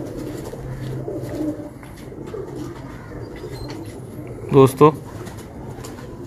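Domestic hobby pigeons coo steadily nearby in a loft setting, a soft continuous murmuring rumble with someone speaking over it and a brief sharper burst near the end.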